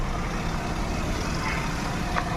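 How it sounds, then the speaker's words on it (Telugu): A used Maruti Suzuki Zen Estilo VXI engine idles smoothly with a steady, low rumble that holds even throughout, close by and moderately loud, with no voices over it. "ఇంజిన్ నాయిస్ ఒకసారి ఏనండి సార్."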